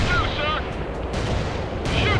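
Gunfire in the World in Conflict strategy game, dense bursts of shots and booming artillery-like reports rolling continuously at close range, with faint battle chatter mixed underneath.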